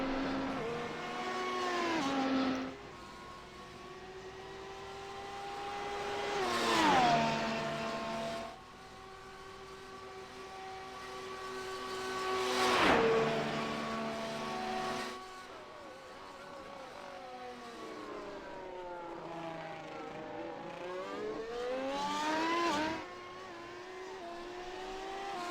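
F1 race cars lapping Monza in a racing video game, high whining engines rising and falling through gear changes as cars pass one after another, with a commentator talking over the engine noise.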